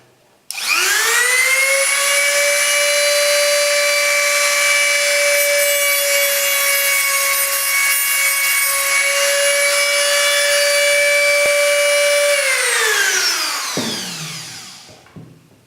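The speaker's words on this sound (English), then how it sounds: "I'm going to use the little cut-off wheel on a little, well, Dremel or Zito or whatever, okay? Fairly noisy" A small Dremel-style rotary tool fitted with a cut-off wheel spins up to a loud, steady high-pitched whine while cutting through model railway track, holding for about twelve seconds before winding down.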